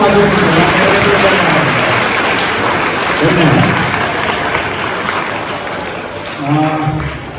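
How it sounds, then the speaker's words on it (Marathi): Audience at a school prize-giving function clapping loudly for the winners, a dense continuous wash of applause throughout, with a voice briefly audible near the end. "एकदा सगळ्या विजेत्यांसाठी आपण एकदा जोरदार टाळ्या वाजवल्या."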